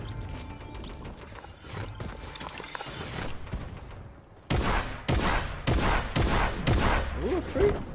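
Bursts of gunfire from a Fortnite match crackle in rapid clusters, with scattered shots early on and a louder run of repeated volleys in the second half, alongside mechanical clicks and impacts.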